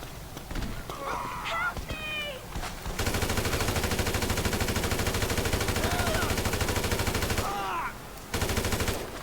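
Rapid gunfire in GTA V, a sustained burst of dense automatic shots lasting several seconds, with a second short burst near the end, and someone talking over the quieter stretches before and after.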